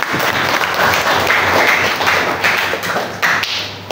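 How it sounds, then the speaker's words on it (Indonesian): A classroom audience gives a steady, dense round of applause, loud and continuous with no voices over it. "Kasih tepuk tangan dong."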